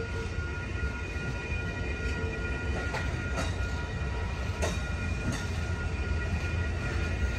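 An Amtrak Coast Starlight passenger train rumbles past a road crossing with a steady low roar and faint rhythmic clanks of wheels over rail joints, heard from nearby.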